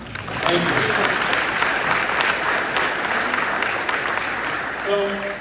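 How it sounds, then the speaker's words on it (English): Loud, sustained applause from a crowd at a congressional campaign launch speech, dense clapping filling the room at full strength before tapering slightly at the end. "Please give yourself a round of applause."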